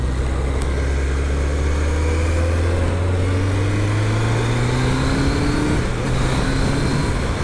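A Triumph Daytona T300 motorcycle engine revs up steadily but sluggishly, its low droning pitch climbing slowly across several seconds, loud and close with constant road and wind noise and no talking.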